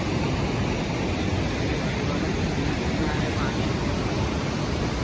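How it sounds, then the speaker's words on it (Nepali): Gung waterfall in Manang, Nepal, heard as a loud, steady, broadband rushing roar of falling water that stays constant throughout. "गुङ झरना रे हजुर, यसको नाम गुङ झरना"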